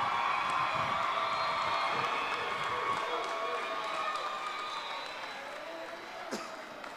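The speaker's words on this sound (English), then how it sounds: "Let's give them a round of applause." A large commencement crowd applauds and cheers the class of 2021 graduates, a steady dense wash of clapping that slowly fades toward the end.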